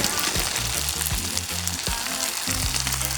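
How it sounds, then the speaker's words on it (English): Prawns sizzling in a wok of frying chicken chow mein, a loud steady crackle of hot oil with stirring knocks and scrapes running through it, close and continuous, no talking. "Now, time to put in prawns."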